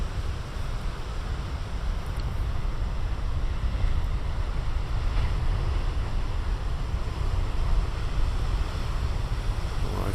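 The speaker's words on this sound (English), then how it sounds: "And now return to the waves." Big ocean waves break with wind blowing across them, making a loud, unbroken low roar of surf that holds steady throughout with no voices.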